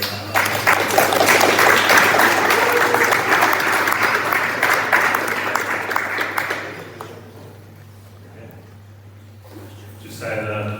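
A pub crowd gives loud, sustained applause for about seven seconds before it fades into a low murmur, with a steady low hum underneath and a brief rise of sound at the end.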